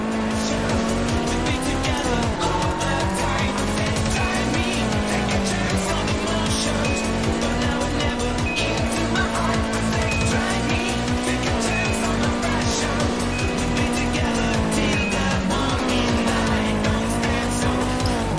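An Acura drifts in a racing video game, its engine revving hard while the tires squeal continuously through the corners, a loud, sustained, slightly wavering screech over a pulsing engine note.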